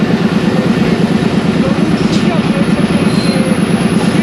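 The Bulleh Shah passenger train runs between Lahore and Khudian Khas with a loud, steady rumble and rhythmic wheel clatter on the rails, heard from on board, with a faint high squeal riding above the noise.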